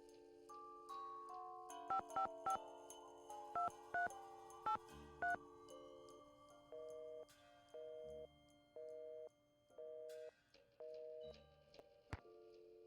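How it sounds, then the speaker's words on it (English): Phone keypad tones beep out a number, two-tone DTMF presses spaced in irregular bursts over a steady tone, with a busy-style repeating pattern near the end; no one speaks. "Did I dial that right?"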